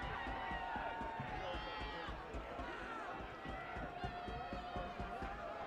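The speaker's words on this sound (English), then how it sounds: "the home crowd's really getting into it" Home crowd cheering at a homecoming high school football game between the Conneaut Spartans and the North East Grape Pickers, with a pep rally: a distant, continuous crowd roar with rhythmic clapping and drumming under a commentator's voice.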